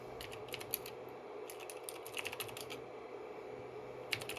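Rapid, uneven clicking of keys on a 1991 laptop computer keyboard, typed in short bursts with pauses, close by and fairly quiet.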